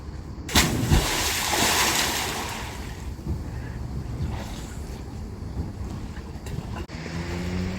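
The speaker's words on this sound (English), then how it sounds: "there's a lot of water that was displaced by my jumping in" A person jumps into water, producing a sharp, loud splash near the start followed by sloshing and a rushing, windy churn of displaced water that carries on at a lower level.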